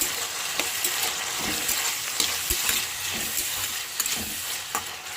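Tomato pieces fry in a hot pan with a steady, close sizzle, broken by occasional scrapes and stirring knocks throughout.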